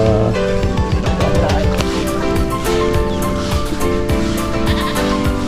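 Several goats bleat loudly and close by, their wavering calls overlapping continuously, with no talking.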